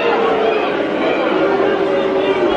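Football crowd at a Mansfield Town match riled up by the referee, a loud, continuous roar of jeering and chatter with a rising chant-like tone, close and dense throughout.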